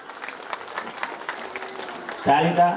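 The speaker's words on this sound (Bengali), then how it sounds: "তালিটা পান্তাভাতের মতোই হলো" Scattered light applause from a seated audience at an NGO gathering, thin and uneven clapping, followed by a voice talking.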